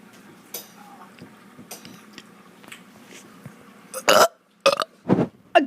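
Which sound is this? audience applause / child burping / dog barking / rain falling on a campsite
child burping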